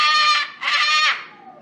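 A donkey at a zoo brays loudly and close by, two strained, harmonic-rich blasts running into each other before trailing off.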